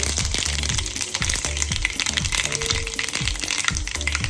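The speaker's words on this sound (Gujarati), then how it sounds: "રાઈને થોડી ફૂટવા દઈશું." Mustard seeds crackling and spluttering in hot oil for a Gujarati tempering, a dense close sizzle with repeated sharp pops and scraping stirs, no talking.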